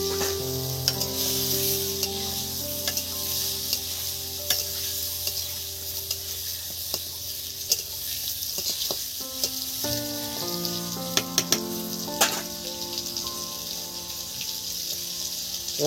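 Pointed gourd (potol) frying in a spice marinade, cooked without oil, with a steady close sizzle and occasional clinks and stirring scrapes throughout.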